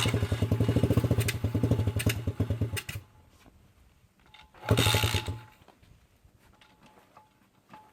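A $100 pit bike engine with stale fuel and a carburetor needing cleaning sputters and revs loudly in uneven bursts for about three seconds, drops to a faint idle, then blips once more briefly before fading back down.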